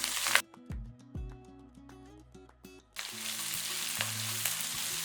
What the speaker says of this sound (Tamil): ஒரு கைப்பிடி அளவுக்கு சின்ன வெங்காயம் போடுங்க